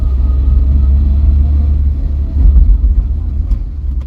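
A Vauxhall Viva barn-find car on a test drive with a suspected carburettor fueling issue, its engine a loud, low, steady rumble close up, swelling slightly as it pulls along.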